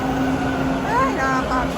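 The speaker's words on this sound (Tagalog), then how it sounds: "Ayan na yung train going to Kipling." Subway train noise on a line bound for Kipling, a steady rumble with brief rising and falling tonal whines, running briefly under background chatter.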